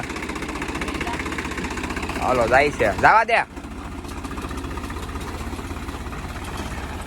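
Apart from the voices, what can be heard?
tractor engine running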